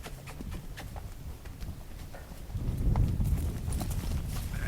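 A horse being line driven in a pen walks with a steady clip-clop of hooves at close range. The steps thicken and grow louder partway through, and there is no clear talk.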